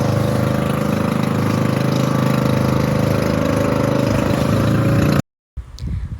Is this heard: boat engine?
yes